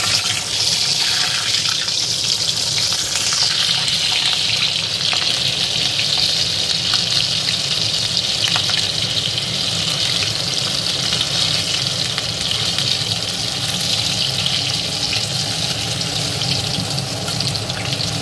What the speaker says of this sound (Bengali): ভাজার জন্য কাঁচা লঙ্কা আমার এখানে ভাজা হয়ে গেছে